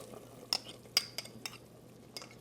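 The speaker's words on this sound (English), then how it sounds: "I'm going to re-stir this cornstarch mixture and add it" Cornstarch mixture re-stirred in a small container with a utensil: a few faint, irregular metallic clinks and taps against the side, alone in a quiet kitchen.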